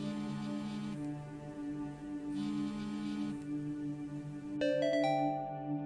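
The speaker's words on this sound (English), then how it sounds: "That's my phone." Mobile phone ringtone sounding inside a video game scene, a steady tonal melody with repeating phrases under a music bed, ending in a sharper chime near the close.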